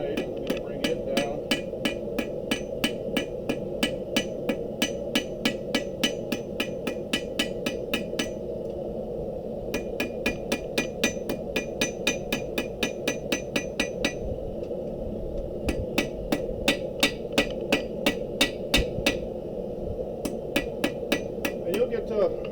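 Rapid, ringing hammer blows strike hot steel while forging a blade, in quick repeated bursts with short pauses between, loud and close over a steady low hum.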